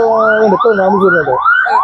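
An ambulance siren wails loud and close in a rising and falling pattern while stuck in a traffic jam on a road near Kottayam Medical College.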